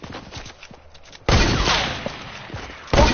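Sniper rifle fire in a shooting video game, a sharp loud blast breaking in partway through with a long rolling tail, then another shot cracking near the end over low background clatter.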